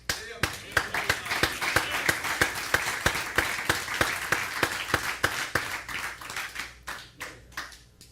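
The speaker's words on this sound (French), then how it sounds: "Aplaudir para Cristo." A church congregation applauds Christ with steady, rhythmic clapping, sharp hand claps landing in a regular beat for several seconds before thinning and slowing toward the end; voices may sit faintly beneath.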